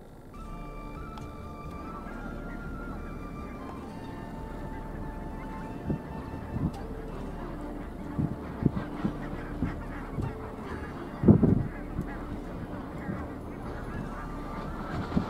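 A large flock of geese on a goose hunt honks continuously in the distance, a layered chorus of calls with a few louder honks rising closer toward the end.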